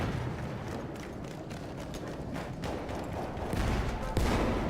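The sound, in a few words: explosions and gunfire from a video game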